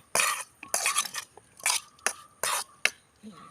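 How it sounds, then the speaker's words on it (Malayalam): Sardine fry masala with green peppercorns being stirred in a pan, heard as a run of short, close scraping and clattering bursts at an uneven rhythm with brief pauses between strokes. "നല്ലോണം മിക്സ് ചെയ്യുക"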